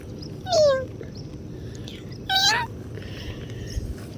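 A house cat gives two short, clear meows about two seconds apart, fairly close, over a soft background hiss; a person also imitates the meowing nearby.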